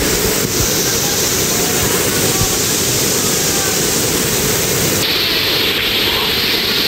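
Steady rushing roar of water at the Udayagiri Salvapet waterfall, heard close and loud as a continuous broadband wash with no clear breaks, its tone brightening slightly near the end.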